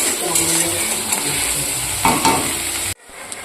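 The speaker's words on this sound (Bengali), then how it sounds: "এই দেখো পেঁয়াজটা প্রায় অনেকটাই ভাজা ভাজা হয়ে গেছে।" Chopped onions sizzle in hot oil in a pan while being stirred for a Bengali chicken curry, a steady close crackle broken by scraping stirs near the end before the sound drops away.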